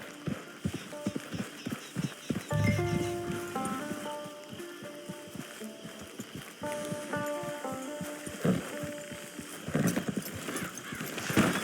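Rhythmic clip-clop of horse hooves close by in the video game Red Dead Redemption 2 Online, with a horse whinnying partway through against soft rustling and music-like tones.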